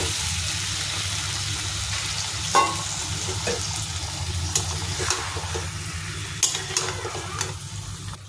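Mutton frying in a hot pan with chilli powder and cumin powder, a steady loud sizzle with occasional scraping stir knocks throughout.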